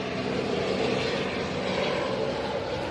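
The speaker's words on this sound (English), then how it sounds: "That is a black and white helicopter" A black and white helicopter flying overhead near Union Station, a steady loud rotor and engine drone throughout with no break.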